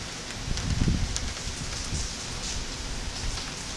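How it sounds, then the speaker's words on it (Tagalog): Heavy rain falling at a lodging near Hunter, New York, a dense steady hiss of drops on surfaces with a few louder splatters, close and continuous with no voices. "Malakas ang ulan."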